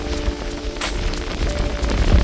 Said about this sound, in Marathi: मजबूत असा पाऊस पडतोय